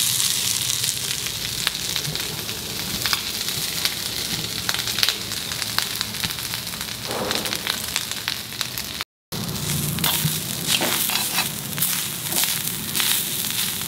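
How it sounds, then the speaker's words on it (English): Grated coconut roasting over high heat in a pan, a steady dense sizzle with scattered crackles and occasional stirring scrapes, close and continuous apart from a brief dropout. "You don't burn the coconut, just roast it till it loses that raw aroma."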